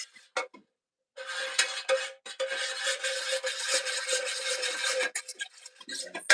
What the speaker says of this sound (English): Okay, so I have to stir for 2 minutes.